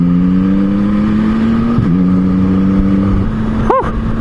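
A 2022 Yamaha MT-09 V3 motorcycle engine idling and holding steady revs through a slow U-turn, a loud, close, even drone with a brief dip midway and a quick blip of throttle near the end.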